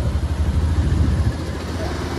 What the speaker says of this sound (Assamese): এখন বাইকত 3টা উঠি আহিছোঁ